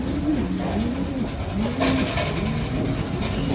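Pigeons coo steadily in a breeder loft colony, several soft rolling calls overlapping at close range against a constant background hum, with no talking.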